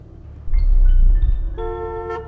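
A car horn in a video game sounds in a short sequence of loud, steady tones over a deep engine rumble.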